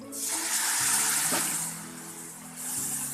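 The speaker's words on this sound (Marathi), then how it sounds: "थोडंसं पाणी टाकूया आपण याच्यामध्ये।" Water is poured into a homemade whole masoor lentil masala with tomato and coriander: a continuous rushing, splashing pour that swells, eases off, then picks up again near the end.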